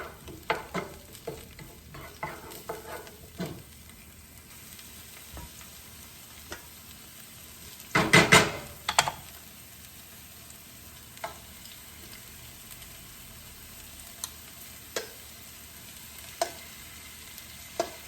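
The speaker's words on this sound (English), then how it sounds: "I will just let that saute down a little bit. before I add my shrimp in there to brown" Aromatics sautéing in a pan before shrimp are added for shrimp fried rice, a low steady sizzle with intermittent spatula scrapes and clacks, including a loud cluster of stirring strokes midway, no talking.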